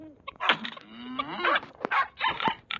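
Video-game chicken calls in a series of short, nasal clucks and honks, loud and close, with uneven pauses between them, from Minecraft.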